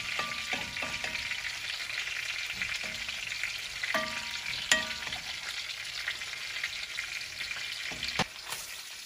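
Vegetables sizzle and fry steadily in a pan for a from-scratch yellow queso, a close continuous crackle with a few sharp scrapes and stirring clicks.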